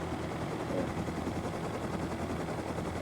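Helicopter in the survival game Rust, a steady low rotor and engine drone filling the whole stretch at moderate, unchanging loudness, with no voices over it.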